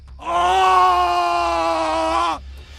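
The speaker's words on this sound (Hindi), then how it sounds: "रॉजर दर्द से तड़प कर चीख उठा" A man's drawn-out scream of pain in a cartoon horror story set at a haunted lighthouse: one loud, sustained, strained cry lasting about two seconds, heard alone against quiet.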